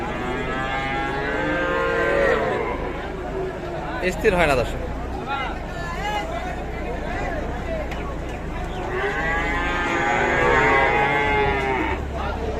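Cattle and bulls for Qurbani moo loudly and repeatedly at the Raniganj livestock market in Dinajpur, with long drawn-out calls near the start and end. Someone talks over the lowing amid crowd babble.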